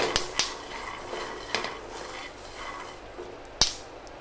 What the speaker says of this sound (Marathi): असं एक दोनदा मी असे हलवते हे शेंगदाणे